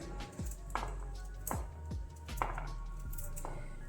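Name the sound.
chopping carrots finely with a knife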